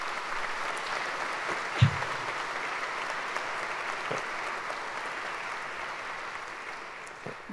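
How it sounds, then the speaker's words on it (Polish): A concert audience in a parish church applauds the arranger with steady, even clapping at moderate volume, a few sharper claps standing out before it tapers slightly toward the end. "wielkie brawa."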